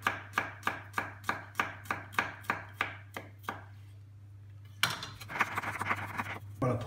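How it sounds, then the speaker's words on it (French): A knife chops garlic finely on a board for gratin dauphinois, about a dozen crisp, evenly spaced taps close by that slow and fade, followed by a brief scraping rustle. "On va couper l'ail très fin."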